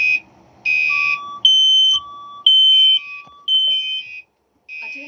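A building fire alarm sounds in loud, piercing electronic bursts of tones that switch pitch in an uneven on-off pattern with brief silent gaps, heard alone without voices.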